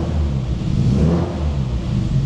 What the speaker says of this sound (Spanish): coche que suena muy bonito